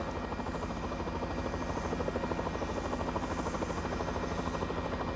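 A helicopter filming a ski race hovers overhead, its rotor chopping in a steady, fast pulse with a constant engine whine, moderately loud and alone without talk.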